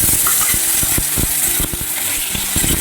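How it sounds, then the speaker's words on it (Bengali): Whole spices, onion, garlic, ginger and green chilli fry together in a pan for an egg dish, giving a loud, continuous hissing sizzle close up, punctuated by quick stirring clicks and scrapes, with no voices. "একসঙ্গে একটু হালকা করে ভেজে নেব মশলাটাকে"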